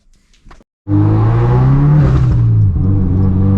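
A turbocharged Subaru with a freshly installed turbo inlet pipe fires up after a brief clatter, then holds a loud, steady engine drone with a slight rise in revs, heard close and without talk.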